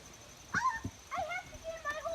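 Mangalitsa pigs in an outdoor pen let out short, dog-like yips and whimpers, several brief calls in quick succession at close range, fairly quiet.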